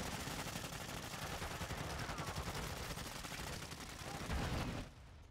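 Relentless automatic weapon fire in Call of Duty: Modern Warfare III, a fast stream of loud rattling shots that fills the scene before cutting off abruptly near the end, leaving a quieter tail.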